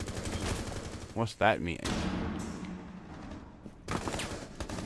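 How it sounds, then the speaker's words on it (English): Gunfire in Rainbow Six Siege, several sharp rapid shot bursts clustered together, then another burst toward the end, mixed with a player's voice talking. "Oh, I'm getting shot from behind."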